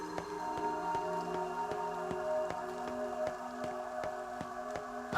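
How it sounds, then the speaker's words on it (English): Rain falls in the video game Nier Reincarnation, a soft steady patter with irregular distinct drips and taps over a sustained tonal musical backdrop, no voices. "Someone's gotta keep Mama nice and warm when the rain makes her cold, yeah?"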